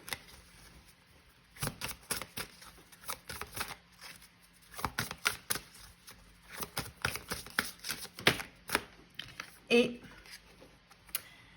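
Tarot cards being shuffled in bursts of soft riffling and slapping, close by, with someone speaking briefly between the handfuls.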